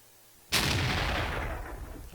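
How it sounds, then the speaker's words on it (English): A tank cannon fires at a building in World of Tanks: one sudden loud boom after a short quiet lead-in, then a long rumbling decay. "So I'm going to go ahead and just shoot a building here."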